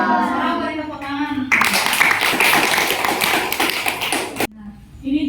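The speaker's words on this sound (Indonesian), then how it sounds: "Sekarang beri tepuk tangan." A classroom of children claps hands together in a dense, loud burst lasting about three seconds, with a teacher's voice speaking before and after.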